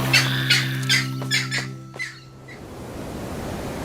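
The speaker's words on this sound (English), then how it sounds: "His loud squawks chase the intruder off." A bird gives a series of loud, harsh squawks, about five calls in quick succession, chasing off an intruder, followed by steady rushing surf.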